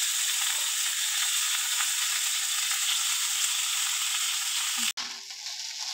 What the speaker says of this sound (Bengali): এবার আমি বাকি ভাতটা দিয়ে দিচ্ছি।